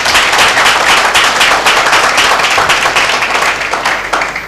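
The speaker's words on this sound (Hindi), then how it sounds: "क्या एक जोरदार ताली दें?" Congregation in a church breaks into loud, sustained applause, a dense wash of many hands clapping that holds steady from start to finish with no pause.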